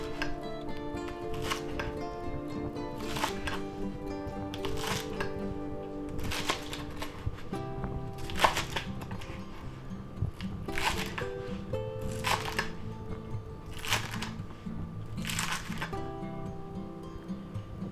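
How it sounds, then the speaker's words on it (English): A knife chops vegetables into 2-inch sections for shrimp chow mein, about a dozen crisp, evenly spaced cuts landing roughly once a second over steady background music. "we're going to cut them into about 2-inch sections"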